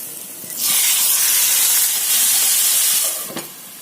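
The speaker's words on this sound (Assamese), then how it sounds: "মাংসখন অলপ সময় ভাজি ললো" Marinated meat drops into hot oil with sliced onion and a bay leaf, setting off a loud, close hissing sizzle that holds for a few seconds before settling.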